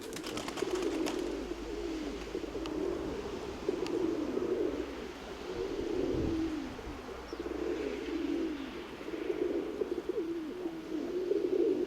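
Two doves or pigeons, a pair on the ground, give low repeated cooing calls in a steady rhythm at moderate distance, with faint outdoor ambience and no talking.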